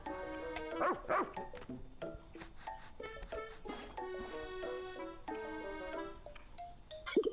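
A pup in Pikmin 4 gives short, bright barks and yips while tracking a scent, several bursts spread over the span along with game music and chimes, clear and close.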